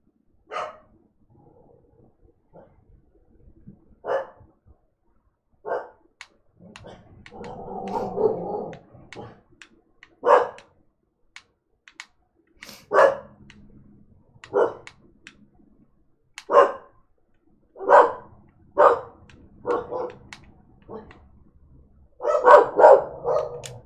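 A dog barks at home in a long series of separate sharp woofs, with a scattered rhythm and some growly, muffled stretches. The barking is close and loud against near silence.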